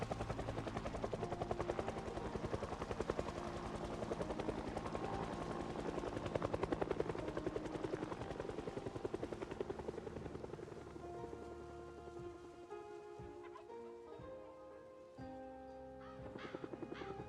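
A helicopter in the video game Project Zomboid chops steadily and loudly overhead, then thins out as it moves away, with crows cawing nearby.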